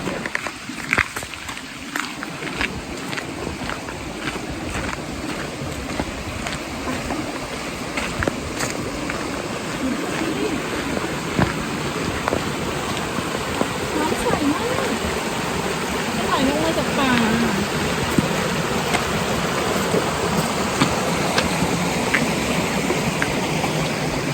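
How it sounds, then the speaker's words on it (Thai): A forest stream in Akatarawa Forest, New Zealand, runs with a steady broadband rush of flowing water throughout, near and constant, with faint footsteps and light movement mixed in. "อันนี้มีลำธารไหลตลอด"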